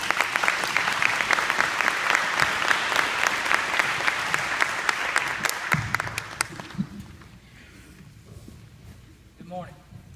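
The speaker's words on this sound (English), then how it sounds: "Ladies and gentlemen, let's give Sergeant Garrison Long a big round of applause" An audience at a school Veterans Day program bursts into sustained, loud applause that fades after about six seconds, followed by quieter room sounds and a voice.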